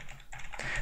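A few quick keystrokes click on a computer keyboard during Python programming, soft and close, in a short irregular burst with no talking.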